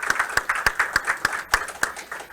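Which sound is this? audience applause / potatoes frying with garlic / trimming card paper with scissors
audience applause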